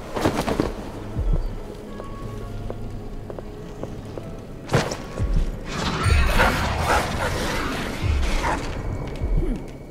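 Dogs bark in the video game Dishonored 2, several sharp barks scattered among mechanical clatter and rain-like game noise, moderately loud and growing busier in the second half.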